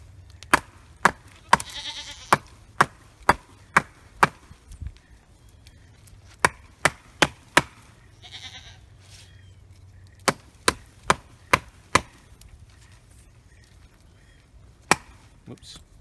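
Sharp, loud wooden knocks in quick rhythmic bursts as a 7-inch knife is batoned through wood, with a pause in the middle and a few final blows.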